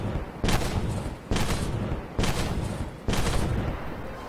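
Tank main-gun fire in the armored-combat game Armored Warfare, with the Begleitpanzer 57 in a PvE battle: four loud, booming shots, each with a rolling tail, spaced just under a second apart, with no talking.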